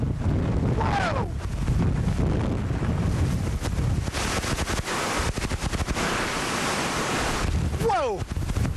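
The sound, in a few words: strong hurricane wind gust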